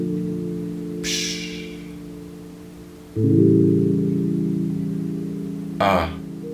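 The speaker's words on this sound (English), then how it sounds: "now we've got our desampled melody" Lo-fi melody resampled down to 1,000 samples for a smooth beat, giving a muffled, underwater quality; sustained low tones swell louder midway, with brief bright crackles breaking through, no voices.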